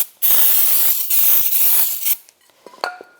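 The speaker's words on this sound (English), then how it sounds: "Before I put the rotor on, I just want to take some brake parts cleaner," Brake parts cleaner sprays in a loud, close hiss onto the back of a rotor for a 2004-2010 BMW X3, two bursts almost back to back, followed by faint metallic clinks.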